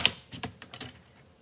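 Small paper trimmer making minor cuts along the side of card stock for a shaker card, a quick series of sharp clicks and snips, close and fairly faint, with no voices.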